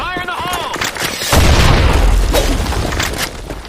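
A grenade detonates in Counter-Strike on the Sand Storm map, a loud broad boom rolling out after a brief lead-in, with gunfire crackling and voices speaking over it.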